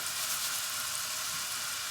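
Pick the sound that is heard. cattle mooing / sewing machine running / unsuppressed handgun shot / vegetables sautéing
vegetables sautéing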